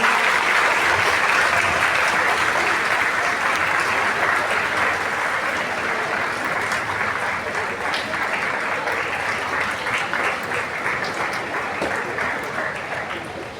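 Sustained audience applause at an evening gathering at Governor House, a dense wash of many hands clapping steadily for the full length and tapering slightly toward the end.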